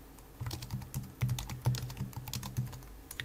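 Typing on a Raspberry Pi keyboard at a desk, a quick run of light, close key clicks at an irregular rhythm, fairly quiet with no talking.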